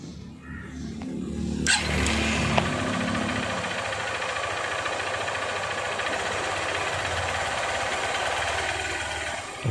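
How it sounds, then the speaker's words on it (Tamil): A Honda Unicorn motorcycle with a pickup problem starts up and runs steadily, its engine held at a loud, rough, constant drone with throttle applied, close to the microphone. "இப்போ நம்ம ஸ்டார்ட் பண்ணிவிட்டு அதை வந்து நான் ரேஸ் பண்ணி உங்களுக்கு காமிக்கிறேன்."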